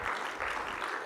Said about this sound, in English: I'm not a big one for applause, but I do want to express appreciation